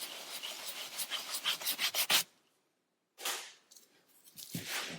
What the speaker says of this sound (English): iGel Interior, stiff bristle brush. You can use circular motion if you need to.